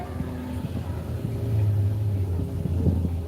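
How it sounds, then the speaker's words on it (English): Racing cars, including a buggy, approach along the course with a low engine rumble that swells and holds, heard from a moderate distance. "Sounds like we've got some cars coming back towards us now."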